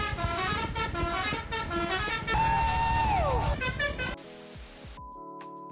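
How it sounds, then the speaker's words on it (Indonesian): Motorbikes and cars pass by outdoors with a steady traffic rumble, and a car horn sounds briefly midway before the noise cuts off abruptly. "masih terdengarlah suara-suara di luar seperti motor, mobil lewat gitu ya"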